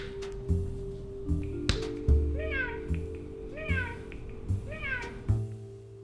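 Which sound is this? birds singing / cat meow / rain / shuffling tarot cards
cat meow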